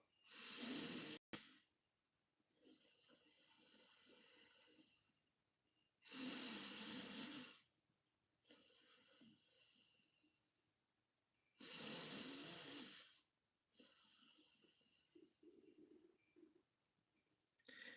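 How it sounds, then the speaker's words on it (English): Slow, deep breaths in and out during a guided meditation, several long airy inhales and exhales spaced by quiet pauses, close and clear with no talking. "close your eyes and relax. 3 breaths in and out"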